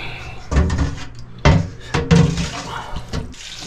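Cold tap water runs and splashes into a container while bear fat soap is being made, a steady close rush with a few knocks and clunks of handling over it.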